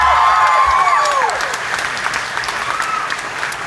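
Crowd applause at an outdoor country fair concert, a broad wash of clapping and cheering that starts loud and eases slightly, with vocal whoops and tonal sounds over it.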